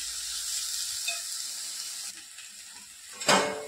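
Onions and tomatoes dry-roast in a pan for a dhaba-style cashew masala, giving a steady soft sizzle and hiss throughout, with a brief louder scrape or clatter near the end.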